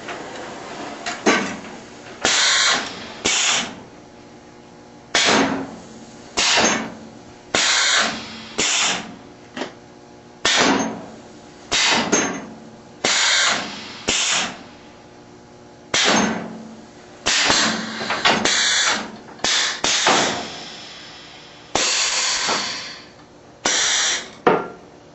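Coil-fed steel runs through a forming machine in a gopher trap factory, cycling in loud, regular metallic bursts about once a second, clanking and whirring steadily with no talk.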